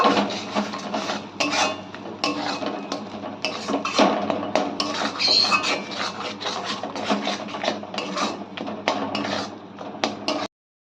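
Mashed roasted eggplant being mixed with chopped coriander in a pan, heard as steady scraping and rubbing strokes of a utensil, close and fairly loud, continuing for about ten seconds with no speech.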